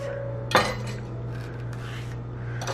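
A knife slicing a banana in half on a board, one crisp knock of the blade against the surface followed by a soft scrape and a faint second tap, close and clear with no talking.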